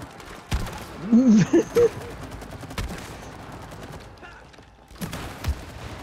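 Sharp gunshots and quick rattling bursts ring out against enemies in the video game It Takes Two, spaced irregularly across several seconds, with a loud voice breaking in near the start and game sound effects underneath.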